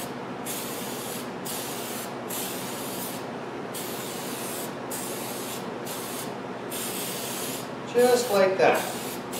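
Aerosol spray paint is applied to an alloy wheel in a long run of regular hissing bursts separated by brief pauses, close and steady, ending with a few short puffs as someone speaks briefly.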